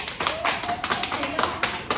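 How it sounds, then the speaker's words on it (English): A group gives a round of applause for someone named Kenya, a dense, steady patter of many hands clapping at moderate loudness with faint voices mixed in. "let's give a round of applause for Kenya"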